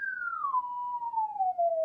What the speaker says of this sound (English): Low frequency, like 60 hertz. So it's going way up, probably in the thousands of hertz.